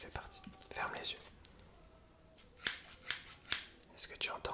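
Several crisp scissor snips close to the ear, spaced a moment apart, amid soft whispering and quiet rustling.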